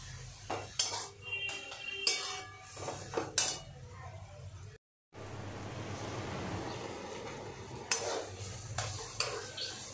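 Potato and pointed gourd, dusted with chili powder, are stirred in a pan to cook off their water. A spatula scrapes and clatters against the pan over a soft, steady sizzle, with a brief moment of silence in the middle.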